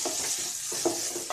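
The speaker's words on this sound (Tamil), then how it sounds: "நல்லா வதக்கி விட்டுக்கலாம்" Vegetables and rice seasoned with salt are sautéed in a pan for paneer fried rice, giving a constant close sizzle broken by a few quick stirring scrapes.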